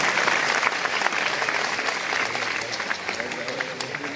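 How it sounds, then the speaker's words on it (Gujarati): An audience at a Gujarati stage ceremony honouring guests breaks into loud, continuous clapping from many hands, dense and steady throughout, with voices audible beneath it. "તાળીઓના ગડગડાટથી એમને વધાવો"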